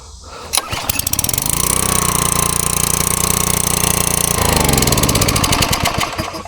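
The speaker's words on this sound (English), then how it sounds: "Let's see if we can start it again. Put it on run." A petrol-engine pressure washer starts with a short crank and settles into a steady, loud, close-up running drone that holds for several seconds, then shifts to an uneven chug near the end.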